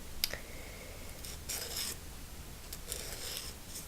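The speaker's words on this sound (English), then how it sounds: "nail file, which I'm convinced is going to give me some good sounds if I can just figure out how to use it." Nail file rubbed and scraped in short rasping strokes, a few brief bursts of close, quiet scratching separated by pauses, with no talking.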